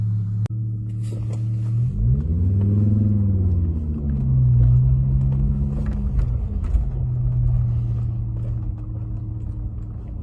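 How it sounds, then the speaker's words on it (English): A run-down car with a rotary engine heard from inside while driving on the road, a steady low rumble that rises in pitch as it accelerates, eases off and settles into a constant drone. "There you go, my crap car. Let's see what it's like out on the road."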